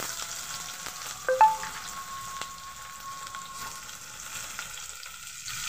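Chopped onion frying in mustard oil with whole garam masala for rajma gives a soft, steady sizzle with a few scraping stirs and a brief louder clatter early on.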